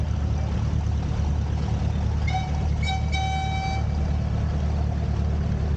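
Ford 5610 diesel tractor runs with a continuous low engine drone at an outdoor show. A short tonal toot or whine rises over it midway, and no one speaks.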